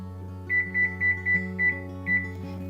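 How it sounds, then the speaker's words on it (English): An oven timer beeping in a home kitchen while granola bakes: six short, evenly spaced electronic beeps ringing clearly over a steady low hum, with no one speaking. "it looks like our timer is going off"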